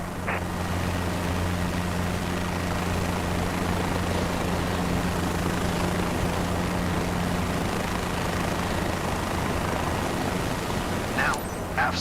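Helicopter engine and rotor drone in Microsoft Flight Simulator 2024, a steady, loud, continuous hum with low tonal bands that holds throughout. Faint noises briefly break through near the start and the end.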